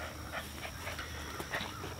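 A restless dog pants softly with faint whimpers, a low steady breathing texture close by under a quiet background hiss, with no talking.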